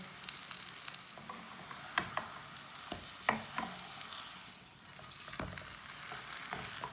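Radish paratha fries in oil on a pan, a soft continuous sizzle punctuated by sharp crackles and spatula taps, fairly quiet and close with no talk.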